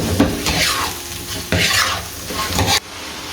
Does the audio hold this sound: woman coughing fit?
no